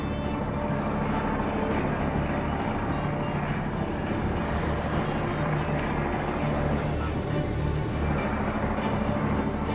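A heavy road train overtaking another truck on an outback Australian highway, a steady loud diesel roar and rushing wind noise filling the whole stretch without a break.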